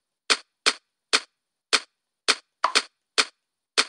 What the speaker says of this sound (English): Whenever you hear the popping noises, that either means you died or someone else died